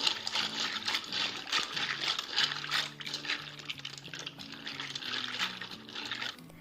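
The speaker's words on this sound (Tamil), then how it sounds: "அதில் நல்லா தண்ணி ஊற்றி நல்லா இதை வாஷ் பண்ணிக்கோங்க." Water is poured over macaroni pasta in a kitchen to rinse it, a soft continuous splashing with light clinks of dishes, set against quiet background music.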